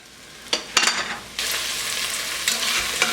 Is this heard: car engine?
no